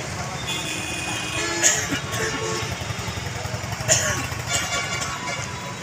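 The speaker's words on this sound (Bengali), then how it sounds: "মোটরসাইকেল গুলো আগান আস্তে আস্তে আগান" Motorcycle engines idle and rumble steadily as bikes creep along in a slow political rally procession, with people talking and calling out over the low drone.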